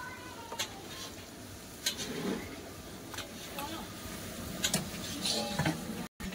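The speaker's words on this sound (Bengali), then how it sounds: "আদা রসুনটা কাঁচা গন্ধ যাওয়া পর্যন্ত ভাইপো মাংসটাকে কষে নিচ্ছে" Meat is seared in a pan with ginger-garlic paste, giving a low sizzle with intermittent scraping stirs and clacks from a utensil, while voices talk faintly in the background.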